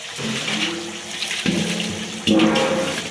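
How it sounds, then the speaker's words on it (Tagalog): Water runs and splashes steadily from a tap or pipe into a container, with bursts of louder gushing as the flow surges, close and continuous without talk. "Ang agas diri guys."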